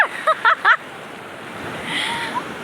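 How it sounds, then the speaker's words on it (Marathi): A few short bursts of speech at the start, then a soft rush of surf washing onto a Konkan beach, swelling gently in the background. "अनुकडे आलं पाणी, अनुकडे आलं"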